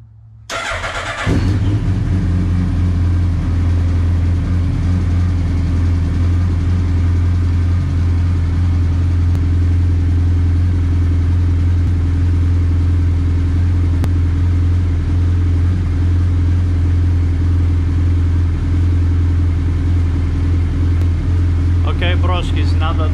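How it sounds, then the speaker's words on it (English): A Suzuki Hayabusa motorcycle engine cranks and fires after about a second, then settles into a loud, steady, close idle rumble that runs on unchanged during throttle-body synchronization work. "And start up the bike again to calibrate the tool."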